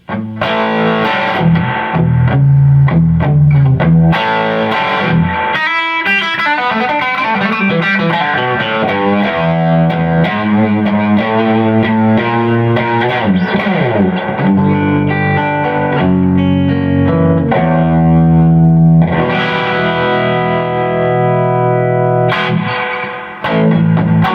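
Loud, distorted electric guitar, a Collings 290 with a hot P90 bridge pickup at full volume through a Carr Super Bee 1x12 amp with no pedals, plays chords and lead runs for over twenty seconds, ringing with slight reverb.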